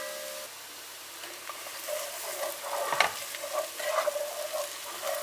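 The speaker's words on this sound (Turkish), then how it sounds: "Salçanın kokusu çıkana kadar kavuruyorum." Pepper paste with onions, chili powder and black peppercorns sizzles in a pot, starting quietly and then building into brisk frying with clinks and scrapes of a spoon stirring, close and without speech.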